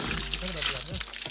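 Water pours and trickles in a short, steady stream into a bottle on a mountain trek in Himachal Pradesh, with a voice talking briefly over it.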